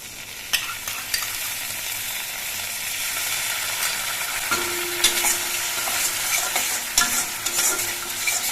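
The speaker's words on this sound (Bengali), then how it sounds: "মশলাটা একটু নেড়ে চেড়ে কষিয়ে নিয়ে এর মধ্যে আমি দু চামচ টক দই দিচ্ছি" Spiced fish masala with salt being stirred and fried in a pan, a continuous sizzle broken by repeated spatula scrapes and taps, close and unaccompanied by talk.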